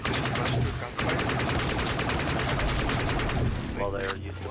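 Dense, continuous gunfire from the video game Dust 514 rattles in rapid bursts for several seconds, loud and close, with a brief break near the start and voices faintly mixed in.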